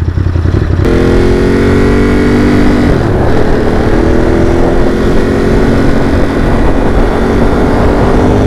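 A powerful Ducati motorcycle engine roars loudly and steadily, revving up with rising pitch, close by with no voices.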